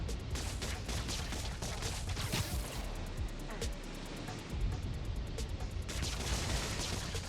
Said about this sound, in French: Une conduite de gaz a explosé.